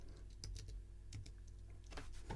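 Keystrokes on a computer keyboard while entering a search in Ableton Live, a quick irregular run of close, crisp clicks in two short bursts, no speech.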